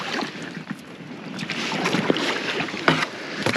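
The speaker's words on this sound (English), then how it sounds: "as soon as you get into it, I can feel it scraping on the bottom" Small boat grinding and scraping over a shallow, weedy river bottom, a steady close rough wash of scraping and water noise with occasional sharper knocks, no talk.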